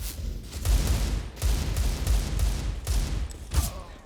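Rapid bursts of gunfire ring out in Counter-Strike: Global Offensive, with several loud, sharp volleys separated by brief gaps, each shot punchy and booming in a close, game-mixed sound.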